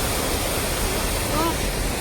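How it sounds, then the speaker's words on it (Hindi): A mountain stream on the road from Lulusar toward Chilas rushes in a loud, constant broadband roar close by, with voices faintly under the water. "इतना कोई प्यारा पानी आ रहा है।"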